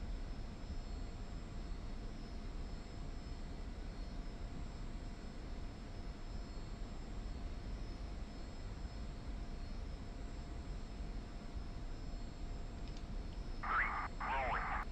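F-86 Sabre jet in DCS World rolling for takeoff, a steady, quiet jet engine drone holding even throughout, with a couple of brief higher blips near the end.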